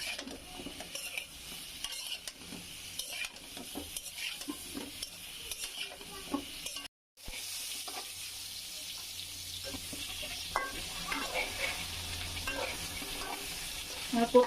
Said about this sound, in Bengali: দিয়ে দিচ্ছি লবণ দিয়ে হলুদ দিয়ে আমি পটলটাকে ভালোভাবে ভেজে